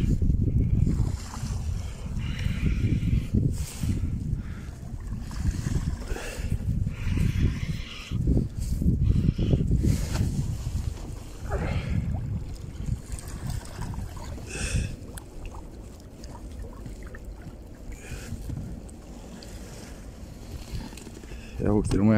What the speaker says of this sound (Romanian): Șalupa.